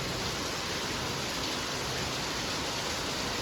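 Heavy rain pours down in a dense, unbroken roar of water, loud and close, with no voices over it.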